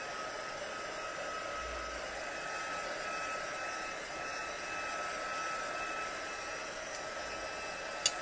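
Steady, even whoosh of a heat tool blowing hot air to dry a handmade card, running continuously and close by with no talking, ending in a brief click.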